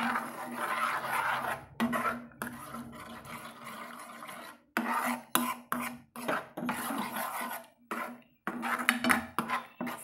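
A spoon stirs and scrapes an egg podimas mixture in a pan, making repeated irregular scraping and clinking strokes with short pauses between bursts, close and moderately loud, with a steady low hum underneath.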